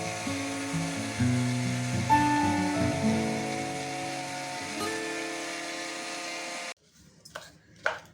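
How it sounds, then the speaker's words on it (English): A kitchen mixer grinder runs steadily as it grinds dry chutney powder (milagai podi), a loud, even mechanical whir that shifts pitch slightly as the spices break down, then cuts off abruptly, leaving a few faint clatters. "So now we have to grind it to the powder."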